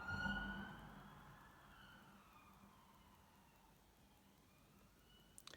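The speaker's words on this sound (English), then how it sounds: "Let that siren pass before I close out" An emergency vehicle siren passes by at a distance, its wailing tone loud at first and then slowly fading away over several seconds, ending with a couple of faint clicks.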